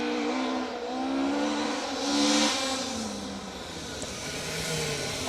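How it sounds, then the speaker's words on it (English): Ford RS 1800 Escort rally car driving a stage of the Carlisle Stages Rally, part of the Pirelli Welsh Rally Championship. Its engine holds a strong, steady note that rises and falls as it revs, sounding fairly close and alone. "Nick Kitchen, Steve Pugh along for the ride in the RS 1800 Escort"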